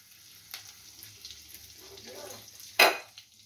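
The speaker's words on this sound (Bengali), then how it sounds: "এবার দেখুন বাটারের মধ্যে রসুনগুলো দিয়ে দিলাম।" Garlic frying in butter for a buttery prawn dish, a soft steady sizzle with a few light utensil clicks and one louder sharp scrape near the end.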